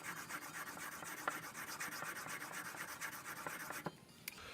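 A chisel stroked on a whetstone during sharpening, heard as a steady, close, rhythmic rasping rub of quick back-and-forth strokes that stops near the end.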